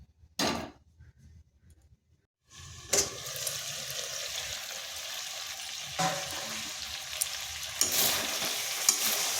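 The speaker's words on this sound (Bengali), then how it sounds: "বেশ কিছুক্ষণ মাংসটা কষে নেব" Meat stir-fried in a pan: a long stretch of dense sizzling that starts after a short quiet gap, with scraping strokes of a spatula recurring through it.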